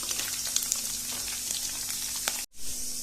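Potatoes frying in hot pork fat oil for an Assamese pork curry, a steady dense sizzle with scattered pops and crackles, close and continuous, briefly cutting out near the end before resuming.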